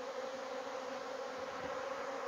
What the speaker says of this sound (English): There's plenty of bees in this hive.